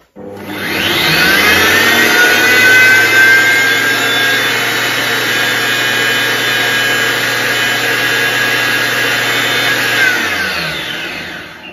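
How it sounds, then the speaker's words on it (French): A Guy Demarle iCooking food processor spins at top speed, grinding sugar into icing sugar: a loud, steady, high-pitched whirring roar that runs about ten seconds, then winds down. "le robot est programmé 10 secondes vitesse 10 pour faire un sucre glace"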